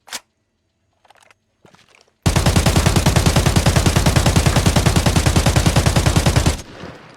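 Full-auto AK rifle fire in Arena Breakout Infinite: a few faint clicks and handling sounds, then a loud rapid burst of about four seconds of evenly spaced shots that stops abruptly, followed by a softer tail.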